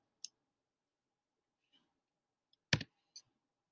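Sharp, isolated computer mouse clicks while working on a canvas size setting in design software, sounding close and dry against near silence: a single click, a long pause, then a quick cluster of clicks.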